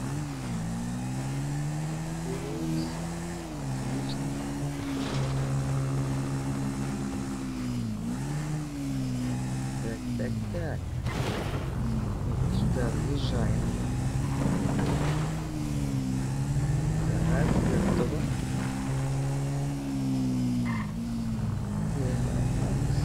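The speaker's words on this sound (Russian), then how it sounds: "Вот, мотоцикл." A motorcycle engine in the video game GTA 5 drones steadily throughout, its pitch rising and dipping as it revs and accelerates, with no talking over it.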